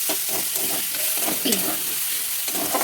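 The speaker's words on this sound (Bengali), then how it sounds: "এখানে আমি এবার এই ঝিনুকগুলো একটু হালকা করে ভেজে নেবো" Garlic frying in a pan before oysters go in, a dense continuous sizzle with crackling spatter and occasional stirring scrapes, close and steady.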